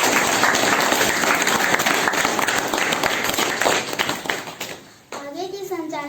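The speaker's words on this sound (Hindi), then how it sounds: "मंच में बैठे मेहमानों को अच्छा लगे इसलिए तालियाँ जरूरी है।" Applause from the audience for guests seated on stage at a school educational workshop, a dense steady clapping wash that fades out before a voice speaks near the end.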